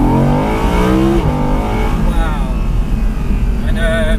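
Naturally aspirated Audi R8 engine revving hard, producing a loud rising roar with climbing harmonic sweeps that drop briefly at a gear change around one second, heard from inside the car with steady engine noise throughout.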